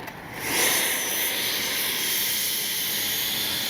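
A Freewing F-18 90mm electric ducted-fan jet model in Blue Angels livery lands and brakes on a runway. Its loud, steady turbine-like whine swells after a moment, then holds close and constant. No voices are heard.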